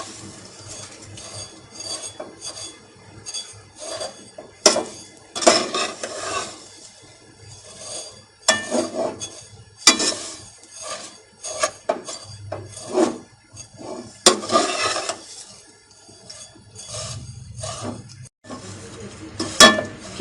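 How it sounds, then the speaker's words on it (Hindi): Vermicelli frying in melted desi ghee, scraped and stirred around a metal pan with a spoon in bursts of rasping, clinking strokes over a faint sizzle, close by and without talk. "अब हम इसके अंदर फेमिया ऐड करेंगे और इसे फ्राई कर लेंगे 3 से 4 मिनट तक।"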